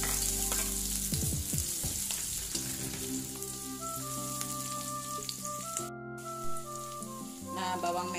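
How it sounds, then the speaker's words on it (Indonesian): Sliced shallots sauté in hot oil, a continuous crackling sizzle at moderate level, with soft scrapes and a short metallic clink near the end, no speech. "Panaskan minyak, tumis bawang merah sampai harum dan berubah warna kecoklatan muda ya."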